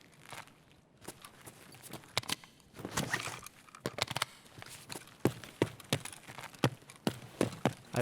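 Footsteps in the video game Escape from Tarkov, a run of sharp, fairly close taps with irregular spacing, growing more regular toward the end, over quiet background.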